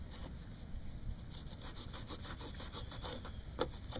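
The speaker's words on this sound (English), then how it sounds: "get a little rubbing compound on the rag, and then just rub it right on the rust" A rag loaded with rubbing compound is rubbed over rust discoloration on a car, giving a steady scrubbing, rasping sound in repeated strokes, close and moderately quiet, with no talking.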